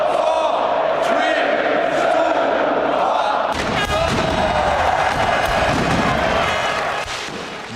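At Arsenal's old stadium, a large crowd roars and cheers as fireworks go off; the noise jumps suddenly midway into a loud, dense burst of cheering and bangs.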